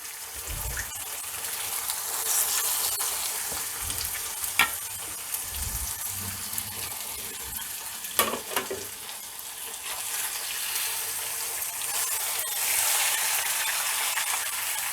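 Grated mango for a mango pickle simmering in oil, a continuous soft bubbling sizzle with occasional spoon clinks and stirring scrapes, steady and close throughout, no speech.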